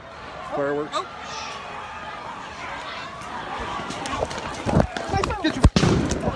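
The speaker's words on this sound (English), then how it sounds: "Fireworks." Scattered sharp bangs and crackles of fireworks ring out in the later seconds amid a noisy outdoor crowd, with tear gas in the air and people talking and shouting throughout.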